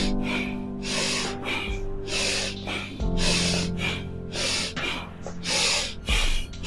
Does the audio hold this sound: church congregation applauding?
no